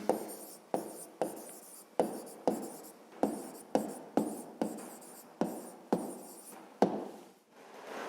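Handwriting an answer during a 5th-grade geometry exercise: around a dozen quick scratchy strokes of pen or chalk, each starting sharply and trailing off, in an uneven steady rhythm, close and quiet, with no speech.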